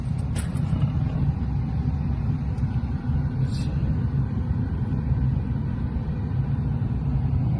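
A Mazda 2 car engine idles in a steady low rumble throughout, with a few faint high clicks and a murmur of a voice in the background.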